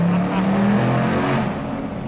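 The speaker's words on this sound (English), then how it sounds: "the absolute best part of this car is the sound, and look at this, a tunnel" A 2019 Ford Mustang Bullitt revs hard inside a tunnel, giving a loud, close engine roar with reverberant echo that swells and then eases off over about two seconds.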